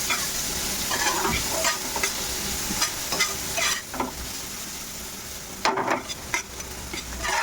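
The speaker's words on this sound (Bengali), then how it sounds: "এবার আমি দিয়ে দেবো কিন্তু পেঁয়াজ আর ক্যাপসিকাম। আমি কিন্তু হালকা ভাজবো" Onion and capsicum fry lightly in a pan, a close steady sizzle broken by bursts of stirring and spatula scrapes, with no talking.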